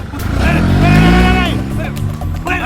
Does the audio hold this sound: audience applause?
no